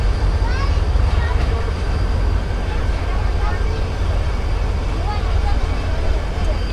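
A Rehman Baba Express train pulls out of Bin Qasim, a steady heavy low rumble with rolling wheel noise and faint high squeals over it, continuous throughout.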